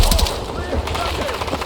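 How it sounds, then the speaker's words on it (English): Gunfire in the video game Battlefield 6 during a night raid mission, a dense burst of rapid cracks and shots layered with rumble and game noise, loud and continuous for under two seconds. "Commence firing!"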